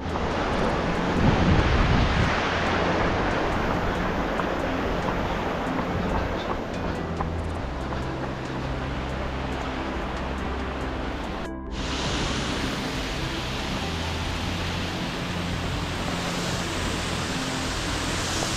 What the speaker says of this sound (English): There's one waterfall.